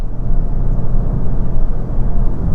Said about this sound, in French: On entend le bruit du vent